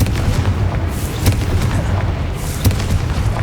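Repeated spell blasts from the Confringo fire curse in Hogwarts Legacy boom over a dense, rumbling game soundscape, with sharp bursts recurring every second or so.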